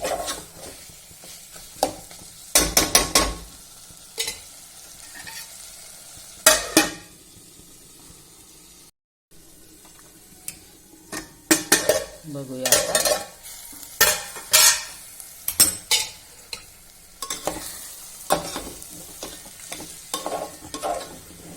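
Mutton fries in masala for a mutton curry, with a soft steady sizzle broken by repeated sharp scrapes and clinks of a spoon stirring against the pan, close and without talk.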